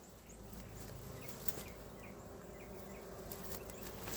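Honeybees drone steadily around a row of beehives outdoors, a soft continuous buzz with faint birdsong and a few quick ticks over it, and no voices.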